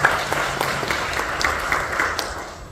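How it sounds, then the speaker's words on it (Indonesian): A church congregation applauds during a sermon, a continuous roomy clapping with scattered sharper claps over a steady background wash. "Mari kita beri tepuk tangan dulu bagi Yesus."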